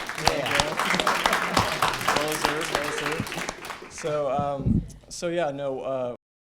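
Audience applause at a 2015 student government executive candidate forum fills the first four seconds with dense, fairly loud clapping, then fades as a voice speaks over the room.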